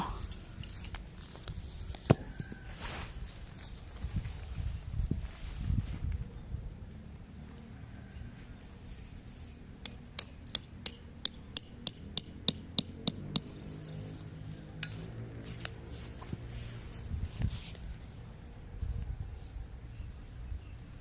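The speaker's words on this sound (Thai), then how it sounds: "ส่วนบริเวณด้านหน้าเราก็ดึงมาเพื่อที่จะตอกสมอ" Stakes being hammered into the ground while pitching a Coleman Touring Dome LX tent outdoors, a quick burst of roughly a dozen sharp metallic strikes in fast rhythm midway, with rustling and handling noise before and after.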